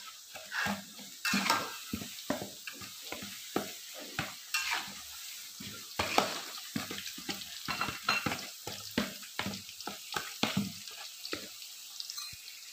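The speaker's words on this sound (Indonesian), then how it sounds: "kita aduk lagi" Potatoes stirred in a frying pan during a husband-versus-wife cooking contest, a steady run of close scraping and clattering strokes over a soft sizzle, with brief louder bursts throughout and no talk.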